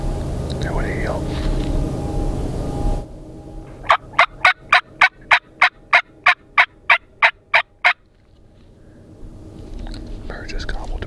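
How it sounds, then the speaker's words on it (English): A wild Merriam's turkey gobbles about 500 yards off on a public-land mountain ridge in Idaho, a run of evenly spaced rapid pulses over a few seconds, set between stretches of low rumbling background noise. "Bird just gobbled to my left. 500 yards away."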